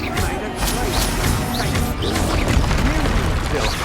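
Expelliarmus spell effect from Hogwarts Legacy, a burst of crashing, whooshing magic mixed with swishes and impacts amid ongoing game noise and music.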